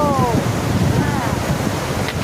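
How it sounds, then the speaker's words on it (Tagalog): Strong wind roars steadily against the microphone, mixed with surf-like rushing noise and a few faint voices in the background. "Ang lakas ng hangin dito."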